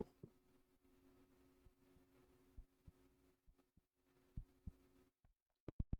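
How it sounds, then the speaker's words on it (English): A faint, close heartbeat picked up by a microphone thumps in soft irregular beats over a low hum, ending in a few sharper knocks after a brief silence. "you get to hear my heartbeat as I sign off"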